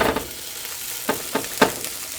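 Maxwell Street Polish sausages sizzling in a pan, a steady close frying hiss broken by a few soft scrapes and clicks as the links are laid in and moved about.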